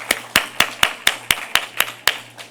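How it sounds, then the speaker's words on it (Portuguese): Applause at the Allwrite Summit 2024 event: about nine evenly spaced crisp claps, close and fairly loud, with no speech. "Salva de palmas para a Malu."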